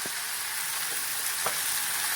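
Sugar and spices frying in a pan for a Bengali spicy snail (guglir jhal) curry, giving a steady close sizzle throughout with a few soft stirring knocks.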